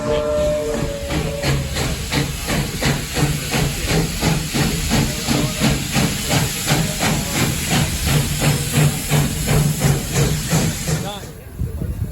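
The Slim Princess, a narrow gauge steam locomotive, passes close by in Carson, Nevada with loud steady hissing steam and rhythmic chuffing beats that fade near the end, while people talk over it.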